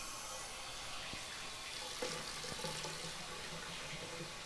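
Water runs steadily through an Allpax retort system, a continuous broadband rush with a couple of faint clanks partway through.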